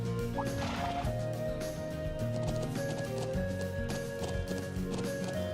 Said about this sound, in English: Yay, horses!